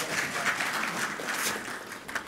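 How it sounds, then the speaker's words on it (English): Audience applause at a broadcast panel event on construction issues in KZN, a dense, continuous patter of many hands clapping, fairly loud and steady, with no voices over it. "Please give him a round of applause again."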